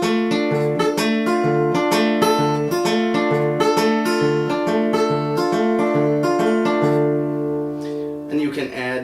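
Fingerstyle Travis picking on guitar in a ragtime style, an alternating bass pattern under plucked treble notes in a steady, even rhythm, played close and clear, with a brief scratchy strum at the end.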